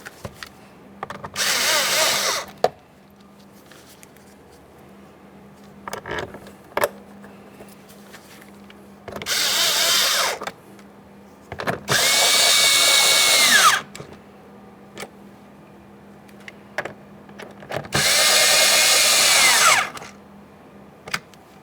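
Power drill driving and snugging two 7mm mounting bolts on a 2015-2020 Ford F-150 front door during a window regulator replacement, heard as four close, loud whirring bursts of a few seconds each, separated by quiet pauses with small clicks and handling sounds.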